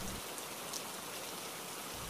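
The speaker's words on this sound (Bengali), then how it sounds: "বৃষ্টিটাও তো আর থামছে না" Soft, steady rain patters in the background, a faint even hiss with occasional drops, no voices.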